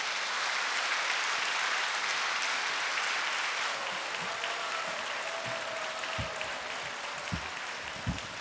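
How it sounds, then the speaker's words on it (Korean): Audience applause at a Buddhist hymn premiere concert by a male vocal ensemble, a broad steady wash of clapping that thins toward the end, leaving a few distinct louder claps. "여러분, 마지막 무대라서 조금은 아쉽지만 더욱더 격려의 마음으로 큰 박수 다시 한번 부탁드립니다."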